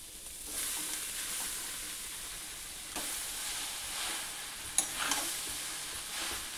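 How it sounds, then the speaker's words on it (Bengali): Minced soybean being sautéed with spices and vegetables in a pan: a soft, steady sizzle with occasional stirring scrapes and clinks of a utensil, fairly quiet and close. "এবার মশলার সঙ্গে আমি সয়াবিনটা ভালো করে কষিয়ে নেব"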